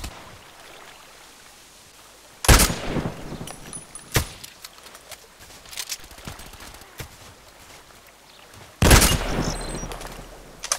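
Sniper rifle shots in the video game Contract Wars, played on the Lighthouse map: two loud, sharp cracks several seconds apart, each trailing a rolling echo, with fainter clicks and handling noises in between.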